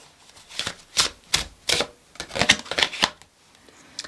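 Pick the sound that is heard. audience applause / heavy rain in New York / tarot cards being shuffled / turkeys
tarot cards being shuffled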